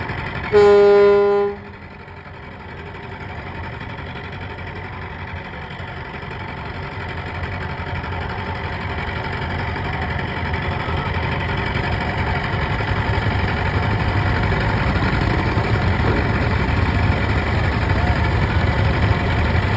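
The Pubali-12 passenger launch, crowded with passengers on the Kaliganj–Ilisha route, opens with a short horn blast, then its engine drones steadily and loudly at full speed against broad water and wind noise.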